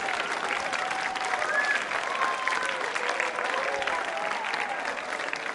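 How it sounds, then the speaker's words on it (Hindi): Audience applause at a school quiz show, a steady dense clapping that fills the whole stretch at moderate level, with some faint voices mixed in. "तालियां जोरों से बजाइए इन दोनों घोषणाओं के लिए"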